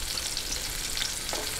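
Onion and garlic sautéing in a pan before pork belly is added for a Filipino sinigang, a steady close hiss of frying oil with faint stirring, no voices.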